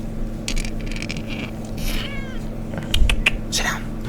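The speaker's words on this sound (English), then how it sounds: "Sorry y'all for the cat." A house cat meows several times close by, drawn-out and wavering calls mixed with room noise, while someone talks over it.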